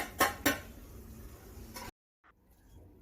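A spoon strikes a pan with two sharp clinks while spicy goat liver is stirred with garam masala, followed by soft scraping and then near silence.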